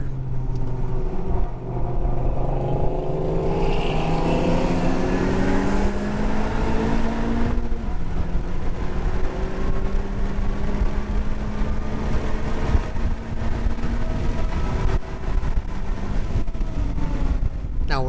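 Honda Civic Type R FK8 driven hard on a race track with traction control off, its engine droning loudly and continuously with rising pitch through the gears, a shift break midway and wind buffeting throughout.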